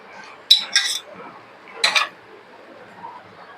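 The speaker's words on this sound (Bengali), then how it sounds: "মশলাটা নাড়াচ্ছি" A metal spoon scraping and clinking against a cooking pan while masala paste is stirred, two short bursts of scraping clatter separated by a pause over quiet background.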